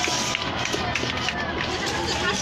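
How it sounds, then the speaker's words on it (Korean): A seated audience at a Wednesday protest rally on the Japanese military sexual slavery issue applauds an entertainment team, a dense, steady wash of many hands clapping throughout, with crowd voices mixed in. "수고해주신 별강 엔터테인먼트 분들께 다시 한번 박수 부탁드립니다."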